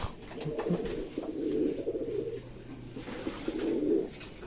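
Two male pigeons, a newcomer and an established bird, scuffle with repeated low cooing bursts and scattered wing rustles, moderately close against steady background noise.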